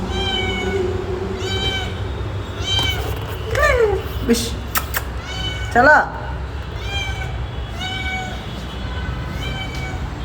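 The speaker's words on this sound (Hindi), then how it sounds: "बिल्ली।" Several cat meows at intervals in a home kitchen during dinner preparation, with people talking throughout and a few brief thumps as someone slips.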